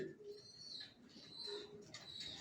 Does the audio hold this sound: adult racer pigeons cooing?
yes